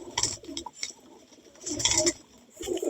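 Pigeons, a Madrasi breed line of green racing birds, coo in short soft bursts at close range with brief pauses between calls, with no talk.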